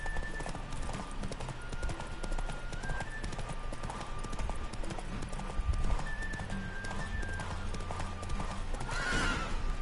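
A video game horse gallops in a race, with rapid rhythmic hoofbeats continuing under a rumbling background, occasional whinnies and a brief game tone.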